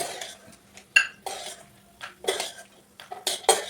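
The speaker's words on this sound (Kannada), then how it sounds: "ಗ್ಯಾಸ್ ಫ್ಲೇಮನ್ನು ಆಫ್ ಮಾಡಿಕೊಂಡು ಇದನ್ನೊಂದು ಬೌಲಿಗೆ ತೆಗಿತೀನಿ ರೀ" Roasted peanuts scraped and tipped from a pan into a bowl, with sharp metallic clinks and scrapes of spoon against cookware in irregular bursts, close and clear.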